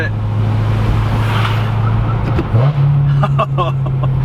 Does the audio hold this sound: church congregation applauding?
no